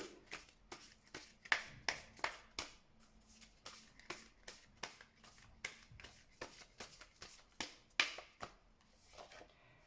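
Playing cards are drawn and shuffled for a tarot-style card reading, a steady run of crisp, close flicks and riffles repeating rhythmically throughout, fairly soft with no talk.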